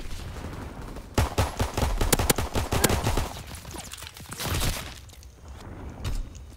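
Pistol shots in the Call of Duty video game: a fast burst of sharp cracks at first, then scattered single shots with pauses, fairly close and loud, with no talk.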